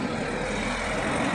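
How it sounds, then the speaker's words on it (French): Street traffic rumbles past from the roadside, a low steady engine drone of passing cars heard from a shaded spot beside a fence, with no speech. "vous aurez le bruit des voitures, c'est merveilleux."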